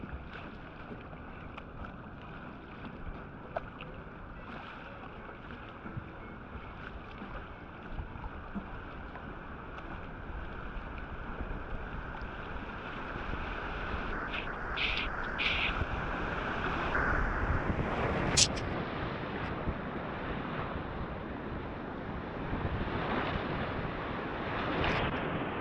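A Pyranha Firecracker kayak runs down the competition side of a whitewater channel. Steady rushing water and wind noise fill the scene, with occasional paddle splashes and slaps building toward the end, and no voices.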